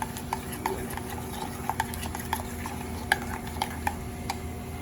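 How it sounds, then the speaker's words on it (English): A spoon stirring vegetables into queso on a hot Blackstone griddle, giving a string of light metallic taps and scrapes over a steady sizzle and hiss. "Grab our spoon, stir those in."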